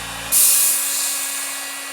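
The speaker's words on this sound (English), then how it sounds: "This is the heat gun" A heat gun switches on abruptly after a brief hum and keeps roaring with a steady, high-pitched airy rush of hot air, close by.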